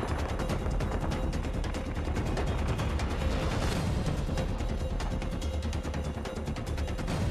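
Gunfire in Call of Duty: Modern Warfare 3 Spec Ops, a dense continuous stream of sharp shots and rattling bursts under a loud battle din, with no talking.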